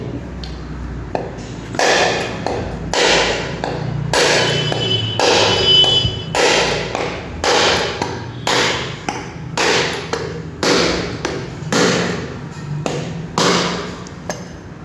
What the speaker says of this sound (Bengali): এবার তিনখানা নারকেল এবার আমি ফাটিয়ে নেবো